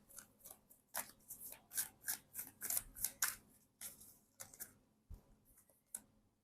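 Angel oracle cards are shuffled by hand, making a rapid, irregular run of faint papery clicks and snaps that are close and quiet, with no talking.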